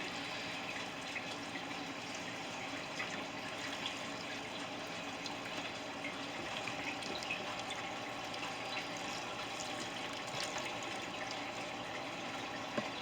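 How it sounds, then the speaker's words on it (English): Beef broth pours steadily into an Instant Pot, a continuous even rush of liquid for several seconds with no talking. "I'm going to add roughly 6 cups of beef broth"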